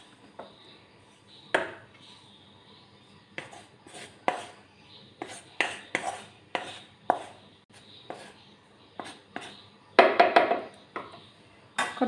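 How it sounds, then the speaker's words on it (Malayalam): Ground chicken kurma masala mix is spooned into a mixer grinder jar, giving a series of short, sharp taps and knocks spaced irregularly. Near the end the knocks come in a denser, louder cluster. "ഞാനതൊരു മിക്സിയുടെ ജാറിലേക്ക് ഇട്ട് കൊടുക്കുകയാണ്."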